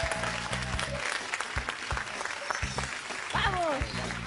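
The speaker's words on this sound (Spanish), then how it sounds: "Aplausos para el equipo azul." Studio audience of a game show applauding the blue team, clapping heard in rhythmic bursts under loud talk and cheering, with a brief whistle-like tone near the end.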